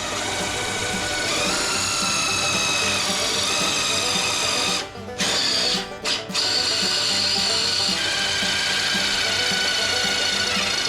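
Power drill fitted with a 1/4-inch bit boring bolt holes for a wood-fire barrel smoker, its motor whining close and loud in sustained runs with two brief pauses near the middle before drilling resumes.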